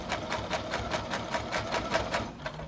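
Close up, a sewing machine stitches fabric for an arched face mask, its needle pounding in a steady, even rhythm as the fabric is fed and held, with no one talking.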